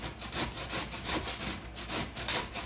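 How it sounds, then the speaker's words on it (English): Vegetables rasped on the big side of a hand grater, a quick run of about a dozen rhythmic scraping strokes, close and fairly loud with no talking. "So I'm using the big grater side."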